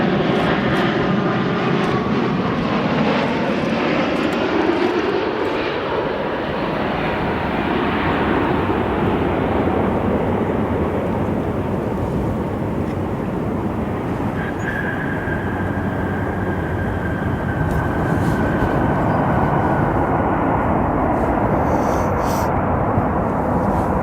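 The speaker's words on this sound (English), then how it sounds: "your American Airlines 787 Dreamliner arriving from London Heathrow" An American Airlines Boeing 787 Dreamliner arriving at O'Hare after a flight from London Heathrow passes loud and close, its broad jet roar swelling and sliding in pitch as it goes by, with a thin whine emerging later.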